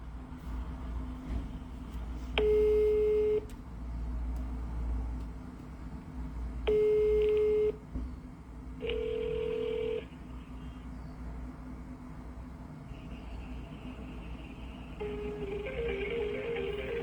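Three separate steady electronic tones, each about a second long, sound over a constant low hum, followed by a burst of warbling beeps near the end, from a telephone busy signal and ringing.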